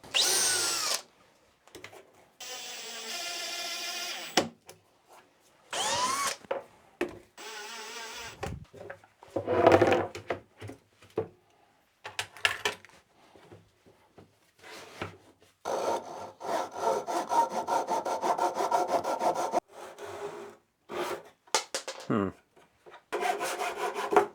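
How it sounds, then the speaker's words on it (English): Chamfering the edges of a wooden shooting board, likely with a hand plane, gives bursts of rasping, scraping strokes separated by short pauses, with a denser run of repeated strokes toward the end; no one speaks. "So let's chamfer these two sides."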